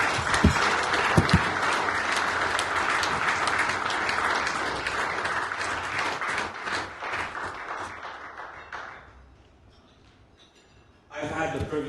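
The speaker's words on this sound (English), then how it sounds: "Please, can you just make that applause loud?" Audience applause at a Nigerian awards ceremony, dense and sustained clapping that thins out and fades near the end before a voice returns.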